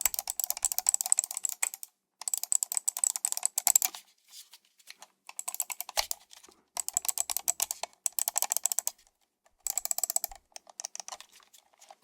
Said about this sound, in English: you're hearing a mouse click and a scroll wheel